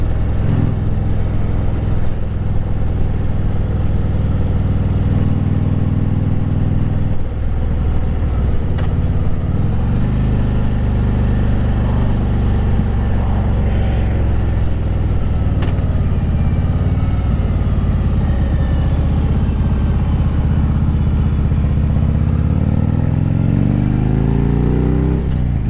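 A 2010 Harley-Davidson Street Glide Ultra rumbles loudly as it is ridden, its V-twin note climbing through revs and dropping at each gear shift, with steady wind and road noise throughout.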